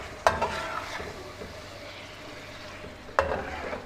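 A spoon scrapes through beef karahi with sliced green chilies and ginger in a wok, two sharp metallic clanks standing out against a soft, steady sizzle.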